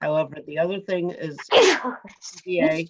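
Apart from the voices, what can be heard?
sneeze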